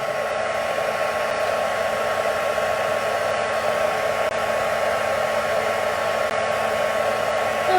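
A heat tool blows hot air steadily onto a handmade card, a constant loud whooshing hum that runs unbroken and close.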